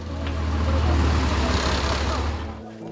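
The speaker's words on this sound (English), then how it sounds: "Each day the trucks roll in." Aid trucks rolling into a village, a steady low engine rumble that swells and then cuts off near the end, with faint background voices.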